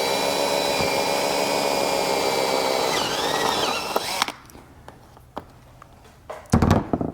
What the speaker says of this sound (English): Just line the tip of the drill bit up in the center of the hole.